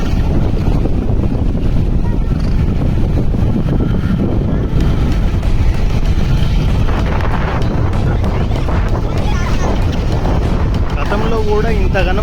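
Torrential floodwater pours five to six feet off a bridge during Cyclone Montha, a loud, unbroken roar of rushing water with heavy wind buffeting the microphone and faint voices underneath.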